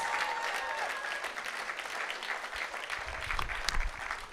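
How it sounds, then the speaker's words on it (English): At a jazz brunch award presentation for a Hall of Fame honour, a room of guests claps steadily, the applause fairly soft and distant, rising slightly near the end. "If you're gonna clap, I want you to clap"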